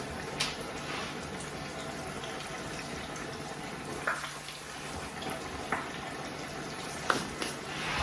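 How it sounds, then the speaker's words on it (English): A steady, hissing sizzle of tortillas frying in hot oil, with a few soft pops and crackles scattered through it and no voices. "you just want to let those fry until the tortillas are pretty crisp"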